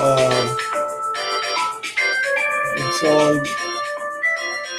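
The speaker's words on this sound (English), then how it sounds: "I can't even get the phone out of my pocket to shut it off." A mobile phone ringtone rings from inside a pocket as a steady, melodic tone sequence that repeats throughout and stays fairly loud.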